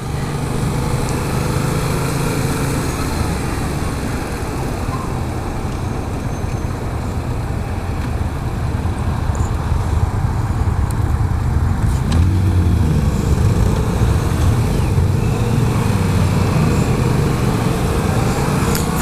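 A 2015 Yamaha FZ-07 motorcycle engine runs continuously on a test ride near the International Motorcycle Show in Long Beach, a loud steady drone with wind rush and slight rises in revs.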